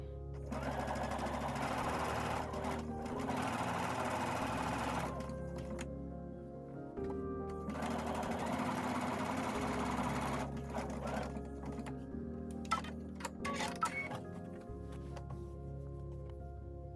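A sewing machine with a quarter-inch foot stitches a Christmas table runner seam, running in steady whirring bursts that pause briefly and restart, close and moderately quiet.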